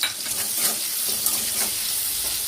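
Tomatoes with salt stirred in a frying pan, giving a steady close sizzle with soft scraping strokes throughout and no voices.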